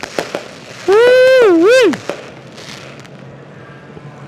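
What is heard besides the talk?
fireworks show at a speedway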